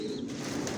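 Pigeons cooing in a loft of Bangladeshi Giribaz and imported Barhuma birds, a soft continuous low coo running steadily through the moment alongside faint rustling.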